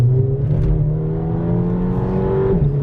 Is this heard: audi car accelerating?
yes